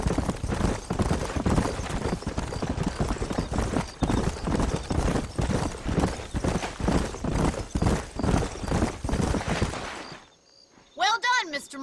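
Horses trot steadily in the Red Dead Redemption video game, a continuous rhythmic clip-clop of hooves for about ten seconds with a voice speaking over it, then a short pause and a brief whinny at the end.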